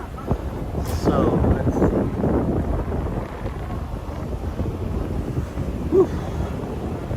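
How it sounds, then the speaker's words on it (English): Gusty wind buffeting the microphone outdoors in Namba, Osaka, a continuous low rumble that swells and eases, with someone speaking briefly over it. "By the way, it's windy, so I apologize"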